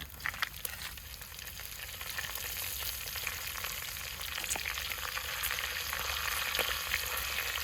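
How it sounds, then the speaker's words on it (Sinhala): Chillies, garlic and curry leaves sizzle in hot oil as a tempering for pineapple curry, a steady crackling fry with scattered pops throughout, moderately quiet and close. "දැන් ටෙම්පරාදු කරගන්න හදාගත්ත කොච්චි සුදු ලූණු"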